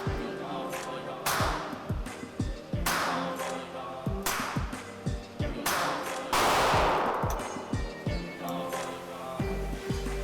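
Winchester .22 LR rifle fired with an aftermarket magazine after a malfunction, a series of sharp, loud, close shots in irregular bursts, some in quick succession, with brief gaps between them.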